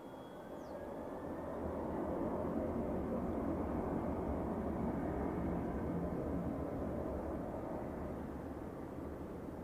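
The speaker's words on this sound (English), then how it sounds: "I will record the 767 and hope for a long and flat climb out." A Boeing 767 takes off at Zurich Airport, its broad jet roar swelling over the first couple of seconds, then holding as a steady, fairly distant rumble with no voices.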